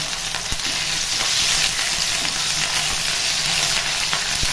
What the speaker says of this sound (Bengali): এবার আমি এই তেলের মধ্যে দিয়ে দেব 1/2 টেবিল চামচ আমি আদা বাটা